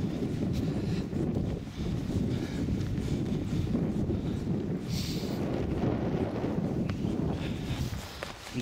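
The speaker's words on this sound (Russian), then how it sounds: "и ветер усилился" Low, rumbling wind buffeting outdoors in a pine forest near the Volga, a continuous gusty roar with a brief whooshing swell midway and no talking.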